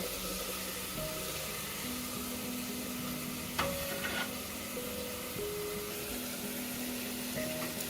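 Soybean chunks and potato stirred while frying in a pan, a steady broadband sizzle with scraping spoon strokes and a sharper clatter midway, near and continuous with no talk.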